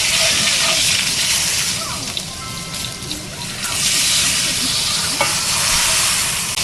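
Steak sears hard in a pan under a press, giving a loud, continuous sizzle and crackle with a few clinks of the press, over a steady hiss.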